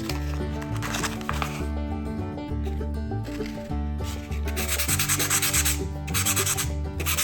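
150 grit sandpaper is rubbed back and forth over a rusted knife blade, making a continuous raspy scraping in close, uneven strokes that fill the whole stretch.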